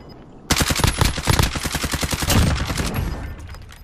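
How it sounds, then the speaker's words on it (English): Automatic gunfire in Call of Duty Warzone, a loud rapid burst of evenly spaced shots lasting about three seconds after a short quiet lead-in, close and dominant. "Oh yeah, I'm getting shot."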